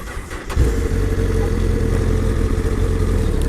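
A Honda CBR sport bike starts off after a brief quiet moment, its engine rising into a steady, close, loud running drone as the motorcycle rolls along, with no one talking.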